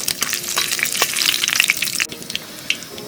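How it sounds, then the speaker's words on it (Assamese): Whole garam masala spices crackle and sizzle in hot mustard oil in a wok outdoors, with brisk spattering pops over a short burst and no voices. "এইখিনি অলপ ভাজি ল'ম।"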